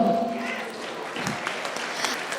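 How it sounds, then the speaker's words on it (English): An audience at a British Bangladeshi awards evening applauds an award winner, a steady roomful of clapping with a faint voice briefly audible underneath near the start. "A bigger round of applause for that."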